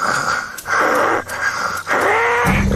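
A man imitates snoring with his voice, giving three long raspy wheezing breaths in a row, loud and close, separated by short pauses, with a lower snort-like rumble at the end.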